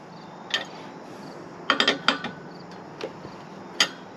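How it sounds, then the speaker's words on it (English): A structure is slowly jacked up with a 3/4-inch (19 mm) tool to level it, producing a few sparse, short creaks and clicks against a quiet background. "Hear it creaking a little bit."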